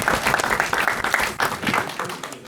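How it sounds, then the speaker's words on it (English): A comedy debate audience claps in a dense, loud burst of applause that runs the whole time, slightly uneven and fading toward the end. "Please, a round of applause."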